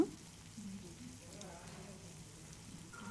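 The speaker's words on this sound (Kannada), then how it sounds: "ಮೆಣಸು ಚಕ್ಕೆ ಇಷ್ಟನ್ನು ಹಾಕ್ಕೊಂಡು ಇದನ್ನು ಚೆನ್ನಾಗಿ ಹುರ್ಕೋತೀನಿ" Dry chillies, garlic, ginger, pepper and cinnamon roast in a pan with a faint, steady crackle and hiss, quiet and close, continuing throughout.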